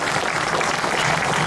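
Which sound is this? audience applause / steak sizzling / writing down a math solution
audience applause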